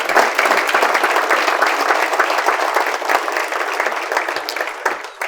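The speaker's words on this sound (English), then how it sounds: "Let's give Trisha a round of applause" Loud, sustained audience applause after a presentation on geopolitics, Iran and US shale, dense clapping throughout with no voices.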